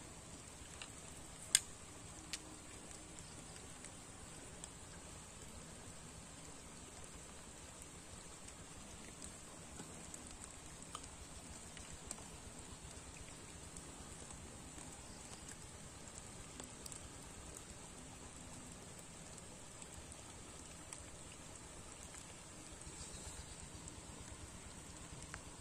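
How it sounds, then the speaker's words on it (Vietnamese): Steady rain falls through the whole stretch on an outing fishing with rod and line, a dense even hiss with scattered tiny drop ticks, fairly faint and unbroken, with no talking. "Giờ này mưa đang mưa lại tiếp nữa."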